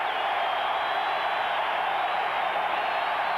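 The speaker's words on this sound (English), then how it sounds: "You'll hear the crowd get into it." A large stadium crowd at an NFL game between the Denver Broncos and San Francisco 49ers roars steadily on third down, a dense, sustained wall of cheering that holds at an even, loud level without a break.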